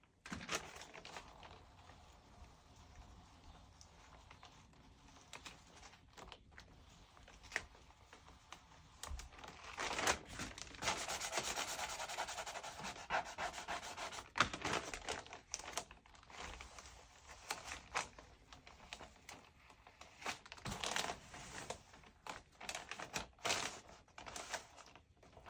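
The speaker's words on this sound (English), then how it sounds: "and then slowly pull off that transfer tape." Transfer tape being slowly peeled off sign vinyl for a T-shirt screen print, heard close as uneven crackling and crinkling that swells and fades in bursts, with no talking.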